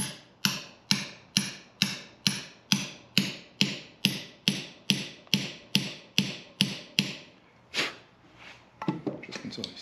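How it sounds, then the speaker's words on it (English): Socket used as a driver to tap parts into the crusty cylinder heads of a '57 Bel Air restomod: about sixteen sharp, evenly spaced metallic taps close by, then a few irregular softer knocks and handling noises. "Just take a socket and tap these in."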